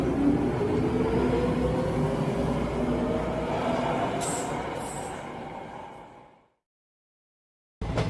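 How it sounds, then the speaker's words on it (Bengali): A train gathering speed and running fast, a dense continuous rumble of wheels and carriages that holds loud for several seconds, fades and cuts to silence, then briefly returns. "ট্রেন এবার ধীরে ধীরে তার নিজস্ব গতি বাড়িয়ে ঝড়ের বেগে চলতে শুরু করল"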